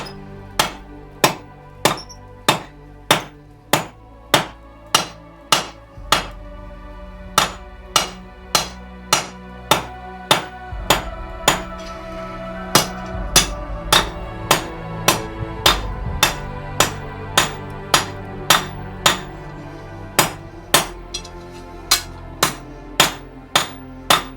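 Hammer striking hot forged iron while shaping a 13th-century-style medieval chest hinge, dozens of sharp ringing blows in a fast, steady rhythm, loud and close, over a low forge rumble.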